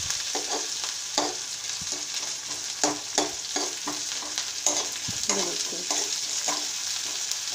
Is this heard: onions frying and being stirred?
yes